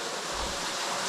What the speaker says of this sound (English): I hear some water.